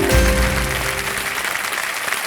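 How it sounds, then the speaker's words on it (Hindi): A studio audience on a quiz game show claps loudly and continuously in a dense, sustained burst that eases slightly toward the end. "बोलने से पहले ही लोगों में ताली बज गई है।"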